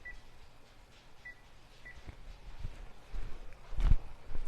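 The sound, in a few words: kitchen timer being set with beeps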